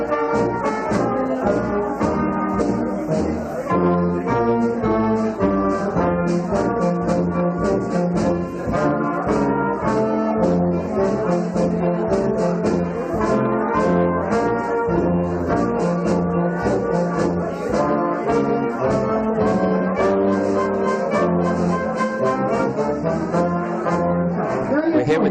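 An oompah band plays brass music at an outdoor Oktoberfest event, continuous and fairly loud with steady low tuba-like bass under melody lines, mixed with crowd chatter throughout.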